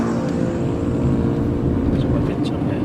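A 2013 Toyota Etios Valco drives on a public road at low speed, about 20, its engine and road noise a steady, even rumble beneath someone talking over it.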